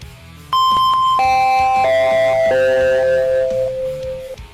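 An electronic school entry bell rings alone, a loud descending sequence of clear chime tones held one after another over a low background hum.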